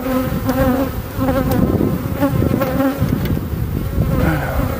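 Honeybees swarm around an open beehive during an inspection, with a loud, close, continuous buzzing that swells and shifts in pitch as individual bees pass near.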